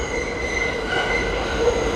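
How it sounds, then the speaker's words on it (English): An elevated train passes in Long Island City, Queens, a steady loud rumble carrying high sustained wheel squeal tones that hold across the whole short stretch. "Here goes the train."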